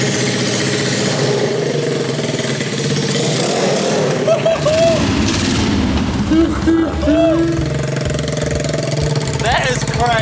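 A 125cc drift kart converted from a kids' quad runs steadily at a loud, close idle and revs, while excited voices talk and shout over the engine throughout.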